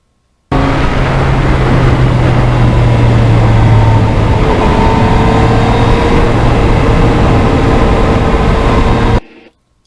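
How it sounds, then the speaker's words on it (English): Yamaha MT-09 motorcycle engine running at speed on a highway, a loud continuous drone with steady low tones and rising pitch as it pulls through the gears, heard alone with no talking. "The sound of this engine when you're riding the bike, when you're in the driver's seat, amazing."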